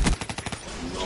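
Rapid burst of gunfire from a shooting video game, about six sharp shots in quick succession, loud and close, followed by a short noisy tail.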